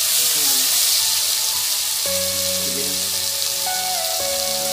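Chopped coriander and curry leaves go into chicken roll filling frying in a pan, giving a loud, steady sizzle close up that runs unbroken, with a faint tonal hum underneath and no talking.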